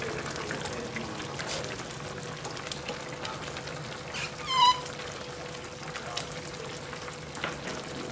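Chopped vegetables hitting a hot pot of chicken stew with chickpeas, giving a steady sizzle and frying crackle throughout, with a brief louder burst of hissing partway through.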